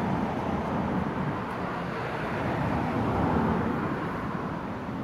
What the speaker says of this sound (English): Sorry guys, for the car passing by my house.